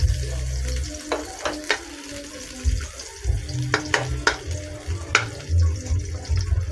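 Onions browning in a pan sizzle and crackle steadily, with scattered sharp pops and a few scraping stirs, close and moderately quiet.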